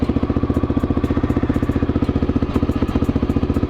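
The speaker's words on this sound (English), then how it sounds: "We'll now move on to the ride along video." Honda XR650L motorcycle, a 2008 big single-cylinder, idling close by with a steady, rapid thumping exhaust pulse and mechanical clatter, heard alone without talk.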